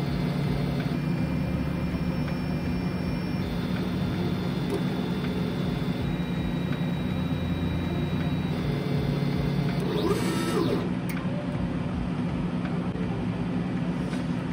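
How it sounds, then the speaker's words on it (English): K40 laser engraver running while burning a thick piece of material held in a clamp, a steady machine hum with exhaust fan drone and a faint high whine, constant and close throughout. "So let's go ahead and start burning."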